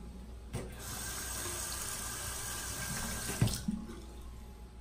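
Tap water runs steadily into a sink to rinse a Rockwell safety razor, a constant hiss with a few clinks and knocks of the razor near the end.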